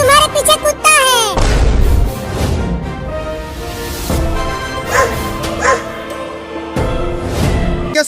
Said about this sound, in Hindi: देखो तुम्हारे पीछे कुत्ता है।